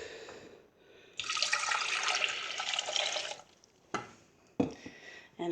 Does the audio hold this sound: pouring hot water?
yes